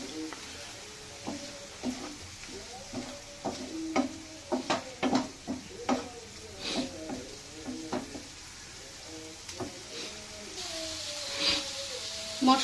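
Spices and green chillies fry in oil in a pan while cooking tilapia fish bhuna, giving a low sizzle broken by repeated scraping stirs and clinks of a spoon against the pan, fairly quiet and close.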